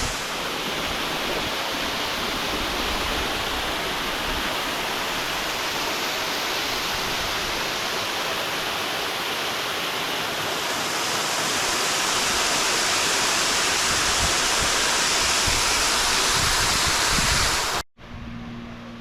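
Water rushes down the spillway of Horseshoe Dam in Arizona, a loud, steady roar of broadband noise heard close up for nearly eighteen seconds before a sudden drop.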